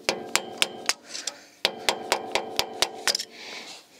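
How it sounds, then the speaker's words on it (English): Hammer taps driving a tight parking brake nut back on an LBZ Duramax, about a dozen sharp metallic strikes in two quick rhythmic runs with a brief pause between, close and clear with no talking. "So we gotta go ahead and give it a couple taps."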